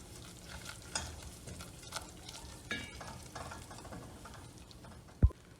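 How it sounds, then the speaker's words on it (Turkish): Flour being dry-roasted and stirred in a pan over melted fat, giving a steady soft sizzle with intermittent scraping stirs and a sharp utensil knock near the end. "kokusu çıkana kadar unumu kavuruyorum"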